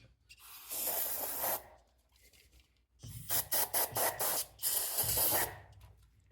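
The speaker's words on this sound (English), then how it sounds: "Let me clean this with some spray clean first." Aerosol spray cleaner hisses in bursts while cleaning a carburetor on a 1971 Ford Highboy pickup: one long spray, a pause, then several short rapid squirts followed by a longer sustained spray, close and loud.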